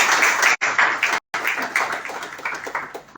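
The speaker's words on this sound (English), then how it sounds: "Please give him a big round of applause" An audience at the curtain raiser of the first Cashew Fest in Goa, 2023, applauds with a broad patter of clapping, interrupted by two brief abrupt dropouts before continuing and gradually thinning.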